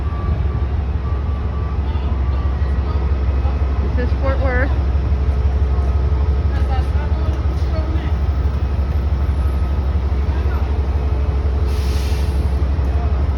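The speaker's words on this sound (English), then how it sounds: "we're not going on the bus, we're on the train" Steady low rumble of an Amtrak Texas Eagle train heard from inside, continuous throughout, with a person talking over it.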